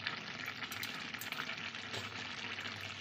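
Potatoes stirred into a chicken curry frying in a pan, a steady close sizzle and bubbling with soft scraping of a spoon, continuous and even throughout.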